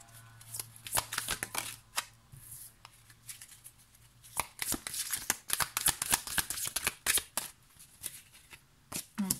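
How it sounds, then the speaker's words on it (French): Oracle cards shuffled by hand in a quiet room, with rapid papery riffles and flicks coming in dense bursts separated by short pauses. The sound is close and fairly soft, with no talking. "moi je m'occupe de battre les cartes pour vous"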